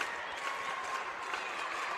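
A crowd claps steadily in a high school basketball gym, a fairly faint, even wash of applause echoing through the arena with no clear individual claps standing out.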